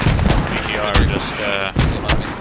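Mortar shells explode in the video game Squad, several loud booming impacts landing at intervals, with voices talking over the barrage.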